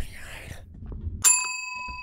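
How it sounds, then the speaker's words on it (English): In a video game, a suite's doorbell chimes once with a bright ringing tone that slowly decays, after a stretch of quiet talking. "Maybe I should try ringing the bell one more time."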